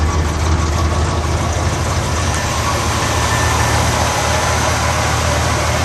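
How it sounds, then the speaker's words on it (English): A 1974 Pontiac Grand Am's 400 engine idles steadily with a low, even rumble, close and constant throughout, with no voices. "The engine running, you can tell it runs nicely."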